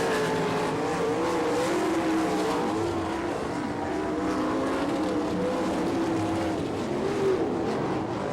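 USAC National Sprint Cars race the final lap at Attica, Ohio during the Buckeye Nationals, with a continuous loud, wavering engine roar as several cars pass and hold throttle through the whole stretch.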